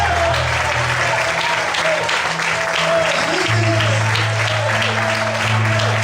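An evening church congregation applauds in praise, sustained crowd clapping over steady keyboard chords, with a preacher's voice speaking briefly over the noise.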